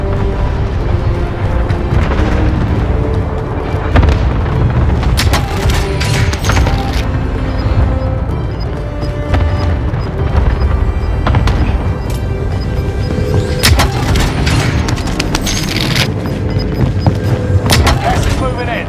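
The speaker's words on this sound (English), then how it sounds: "Enemy cluster strike! Watch your heads! Enemy precision airstrike!" Precision airstrike explosions in Call of Duty Warzone on Rebirth Island, loud booming blasts and impacts layered over a dense, constant game soundscape with voice callouts.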